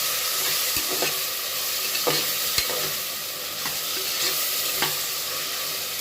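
Turmeric powder sizzles in hot oil in a pan for a dal rice dish, a steady close crackle broken by periodic scraping taps of a spoon stirring it, with no voices.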